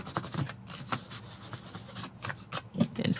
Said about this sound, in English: I'm using my hands to rub away the excess tape runner that's around the edges